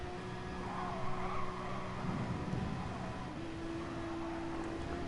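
Mazda race car in a sim racing game, a 24-hour endurance charity race: a moderately faint, continuous engine whine with shifting pitch over broad road noise, no talk.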